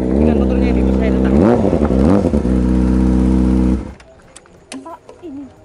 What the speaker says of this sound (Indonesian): Dengan motornya ini, bos saya datang.